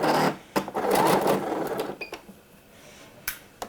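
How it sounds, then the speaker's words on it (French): A sewing machine runs a straight stitch 6 mm from the fabric edge, whirring in a steady fast rattle for about two seconds, then slowing and stopping with a few light clicks. "On va coudre au point droit et on va se placer, ça c'est la petite spécificité, à 6 mm du bord."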